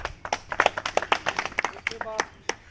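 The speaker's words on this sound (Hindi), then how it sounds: "एक बार सोनी जी के लिए जोरदार तालियां" A small audience claps in a loose, uneven patter of individual hand claps, close and fairly sparse rather than a dense roar, with a voice briefly audible near the end.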